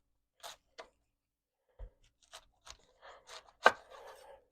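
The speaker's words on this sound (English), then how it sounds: "So for my cabbage, I'm going to cut it in half." A knife cuts a cabbage in half with a handful of sharp, separate crunching chops and taps on a board, close and crisp against near silence.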